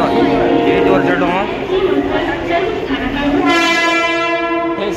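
Train at a busy railway station in Vasai near Palghar, with a steady rumble and a long tonal horn or whistle sounding in the last second, under nearby chatter and talking voices.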